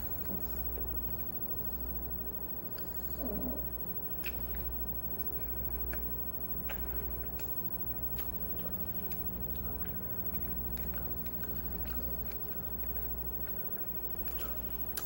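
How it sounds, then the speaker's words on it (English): Someone chews leftover sandwich scraps close to the ear, soft wet biting and mastication clicks repeating irregularly over a steady low background hum, with no talk. "I like to take it and chew up all this excess stuff."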